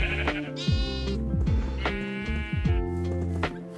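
Several sheep bleating in Minecraft, wavering calls overlapping one after another at close range, loud and continuous with no talk.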